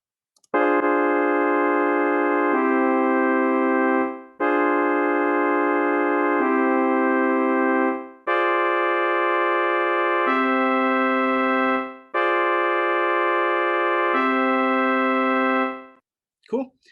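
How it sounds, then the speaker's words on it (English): A half diminished chord played back on a sustained synthetic organ-like tone, repeated in four long blocks with the voicing shifting midway through each, loud and clean with no talking. "Half diminished chord. This is what it sounds like."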